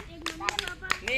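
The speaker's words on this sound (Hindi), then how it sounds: "बजाओ फिर ताली ताली ताली ताली।" Children clap hands in a classroom, a short burst of a few uneven, quiet claps mixed with young voices.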